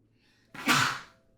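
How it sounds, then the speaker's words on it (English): A woman sneezes once, a sharp close burst with a quick gasping intake, standing alone after a moment of near silence. "She sneezes."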